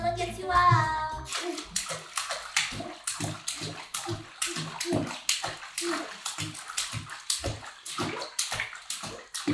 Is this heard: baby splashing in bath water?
yes